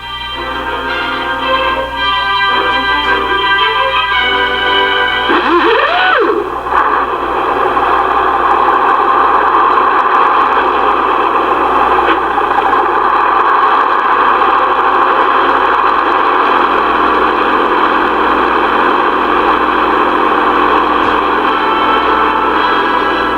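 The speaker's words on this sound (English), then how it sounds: "The blast of the air starter is music to your ears" Heavy trucks on an Arctic expedition start in the cold with an air starter, a whooshing burst followed by a loud, steady engine drone that holds strong and close for the remaining twenty seconds, with no voices.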